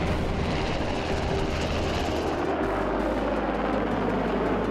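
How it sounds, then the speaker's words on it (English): A UH-60 Black Hawk helicopter: a steady, loud rotor and engine drone with a deep low thrum that shifts partway through, continuous with no voices. "The now iconic UH-60 Black Hawk helicopter has been the Army's frontline utility helicopter for the past 40 plus years."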